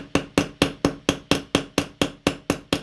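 A hammer strikes a soft copper wire rivet for jewelry in a steady run of about twelve sharp, loud metallic taps, each ringing briefly before the next, close and with no talking.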